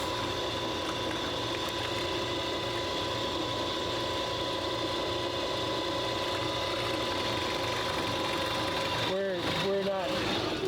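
An electric motor with freshly replaced bearings runs steadily and fairly loudly with a smooth hum, and a brief higher-pitched whirring flutter shows up near the end.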